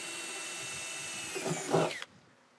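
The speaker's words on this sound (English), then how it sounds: "So I'm gonna use a pilot drill first to get started." Pilot drill boring through two stacked interior panels while fitting an armrest in a 1967-1972 Chevrolet C10, a steady high whine that ends in a brief louder grinding burst as the bit breaks through, then stops.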